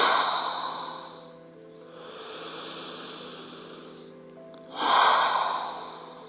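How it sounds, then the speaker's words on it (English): Slow, deep breathing during a calm yoga and meditation session: a long airy exhale, a softer drawn-in inhale, then another strong breathy exhale, close and alone without talk. "Let's do 3 more of those deep breaths, inhaling and filling the lungs, and letting it all go on the exhale."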